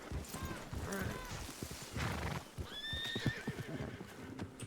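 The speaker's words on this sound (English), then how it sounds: "I want to ride on the back of someone's horse." In a western role-play video game, a horse whinnies several times over steady clip-clopping hooves, both fairly close, with busy background sound throughout.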